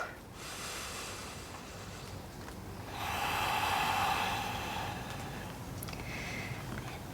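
Slow, audible breathing in a yoga lizard lunge, a soft hiss of an inhale then a louder, longer exhale through the nose or mouth, close and alone.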